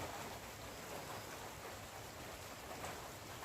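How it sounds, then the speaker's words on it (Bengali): Steady, dense hiss of heavy monsoon rain pouring down continuously during flooding, loud and unbroken with no voices. "এত এত পরিমাণে বৃষ্টি পড়ছে যে কি বলবো"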